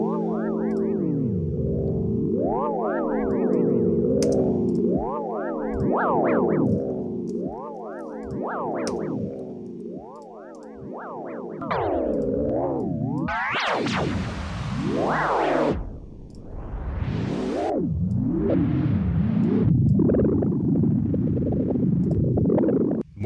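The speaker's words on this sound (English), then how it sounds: "You can even take an echo and tweak this even more." A resampled echo effect made in Ableton sweeps through warped, pitch-bending synthetic tones, gliding up and down in layered swoops with bursts of noisy distortion, continuous and fairly loud throughout.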